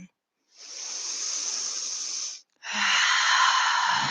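Deep breaths during cat-cow yoga, a long airy inhale followed after a short pause by a stronger, fuller exhale, both close and clear.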